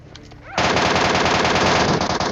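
An MK14 rifle fires a rapid, loud, close burst of gunshots in the PUBG Mobile battle royale game, with the shots in a steady quick rhythm and no talking over them.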